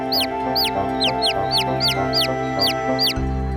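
A cartoon chicken clucks in a quick, regular series of bright, close calls, about a dozen in a row, over a soft musical background that shifts near the end.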